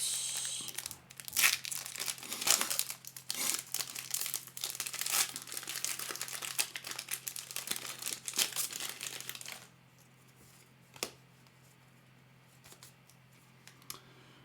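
Foil booster pack wrappers from a Phyrexia: All Will Be One set booster box crinkle and tear in dense, continuous bursts for about ten seconds close to the microphone, then stop, leaving near silence with a couple of faint handling clicks.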